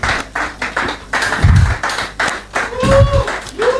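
An audience at an investing talk claps, heard as a run of close, choppy bursts of applause that rise and fall in uneven waves.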